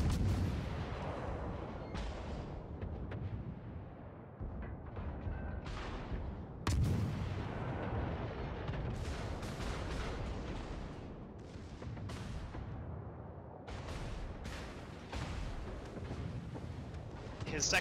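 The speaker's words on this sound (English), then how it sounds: "His secondary guns are fucking blasting him" A battleship's secondary guns firing in a naval battle video game, a rapid series of loud booming shots and blasts, with players talking over the gunfire.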